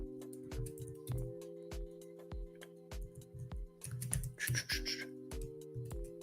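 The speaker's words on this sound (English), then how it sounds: "I'm hitting the wrong thing on my keyboard." Someone types on a computer keyboard while building a spreadsheet: quiet, irregular key clicks and taps with a short flurry of sharper presses partway through, close but soft, with no talking.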